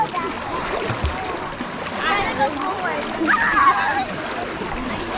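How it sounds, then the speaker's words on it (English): Kids splash around in outdoor water on a very hot summer day in Oklahoma, a steady wash of splashing and sloshing running throughout with voices and chatter mixed in. "you guys can see the kids are having a blast, splashing around"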